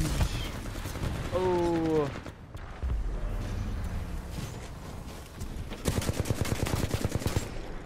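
Rapid gunfire from the shooter game Titanfall 2, bursts of repeated shots under a player's voice, with a dense rattling volley near the end.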